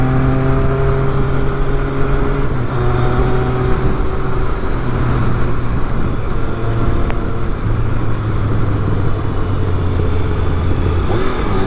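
A 2012 Triumph Speed Triple 1050 motorcycle being ridden along a road. Its engine drones loud and steady the whole way through, with the pitch stepping and sliding as the revs rise and fall. No one speaks.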